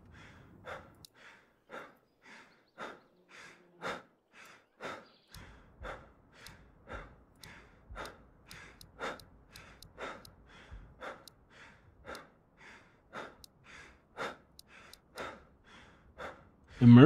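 Player character in the game Road to Vostok breathing heavily, a steady run of rhythmic gasping inhales and sighing exhales, close and fairly quiet, repeating for the whole stretch with no talk over it.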